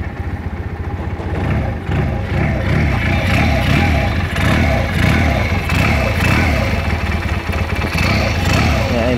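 A 150cc water-cooled Rebel motorcycle engine runs close and loud, its rhythmic pulsing rising and falling in light revs with a faint mechanical clatter, while a voice may be partly mixed in.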